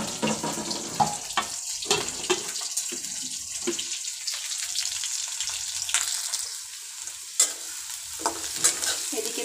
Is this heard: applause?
no